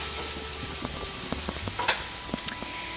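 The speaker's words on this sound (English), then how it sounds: "We warm up a couple of tablespoonfuls of olive oil in a skillet and start sauteing the onions" Onions sautéing in olive oil in a skillet, with a soft steady sizzle and a few light clicks and scrapes of a utensil, fairly quiet and close.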